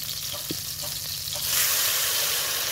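Salsa hits a hot clay pot with a quiet stirring scrape at first, then a broad, steady sizzle of frying that swells loudly and continues to the end.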